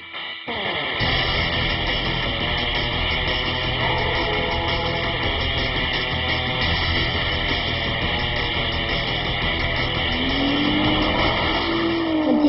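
A drift car slides through corners, its engine roaring steadily at high revs while tires squeal in long rising and falling screeches, loud and close throughout.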